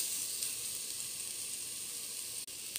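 Minced garlic sizzles in hot oil alongside softened onions for goat kabsa, a constant bright hiss that holds steady and stays close.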